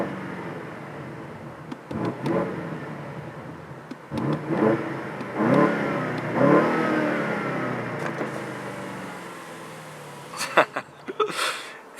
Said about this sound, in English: And of course the sound of this car is phenomenal.